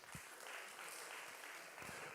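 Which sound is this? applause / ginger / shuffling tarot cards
applause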